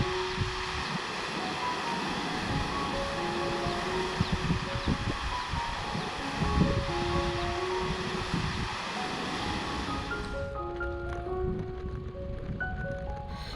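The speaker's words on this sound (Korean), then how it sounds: "한국에서는 보기 드문 일자형 폭포로 높이는 3m에 불과하지만 너비는 50에서 60m에 이른다고 합니다." Jiktang waterfall in Cheorwon, a wide, low basalt falls about 3 m high and 50 to 60 m across, gives a steady broadband roar of rushing water that stays close and even throughout, with no talk.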